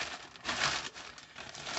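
Plastic bag crinkling close by, a steady rustle of handled wrapping holding a shotgun manual that swells and eases over a couple of seconds, with no voices.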